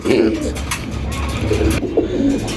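Pigeons at a seller's stall cooing in soft repeated throaty rolls, close and fairly loud, mixed with busy market bustle and a few sharp knocks, including black beauty, homa and local pigeons.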